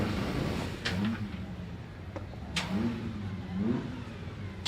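Bugatti Type 44 racing car on the start line at the Prescott Historique hillclimb, its engine revving in repeated rising blips over a steady rumbling idle, close and loud, with no talking.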